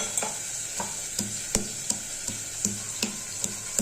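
Ginger and garlic pounded in a mortar and pestle, a steady rhythm of about ten sharp close thuds spaced roughly a third of a second apart, with no talk.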